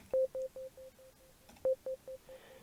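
A ZynAddSubFX synth note repeats through a tempo-synced echo, with clean tonal blips that get quieter at a steady rhythm, then a second note that echoes the same way.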